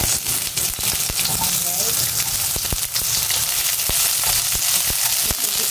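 Garlic and onion fry in a hot pan with a loud, continuous crackling sizzle and small spattering pops; a voice speaks briefly.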